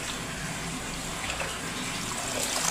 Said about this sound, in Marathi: ह्याच्यात दुसरं पाणी घेतलेलं आहे मी. ही डबल धुवायचं पाण्याने